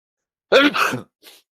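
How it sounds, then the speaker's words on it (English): A single close sneeze, a sharp burst with a short breathy tail, followed by a faint little exhale after a brief pause. "Whoops, got to sneeze again."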